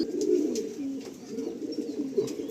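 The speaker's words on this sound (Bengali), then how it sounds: "ঘরের অনেক পুরাতন পায়রা।" A pigeon cooing close by indoors, soft low repeated coos in a continuous rolling rhythm.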